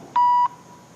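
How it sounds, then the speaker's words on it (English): One clean electronic beep, loud and steady for about a third of a second, then quiet room tone. "You can beep all you want to."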